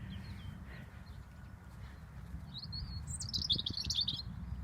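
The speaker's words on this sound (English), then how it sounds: "Mr. Robin sat right at the top of that tree" Robin singing from the top of a tree, its thin, high warbling phrases coming in bursts from a distance over a low outdoor rumble on an overcast, damp morning.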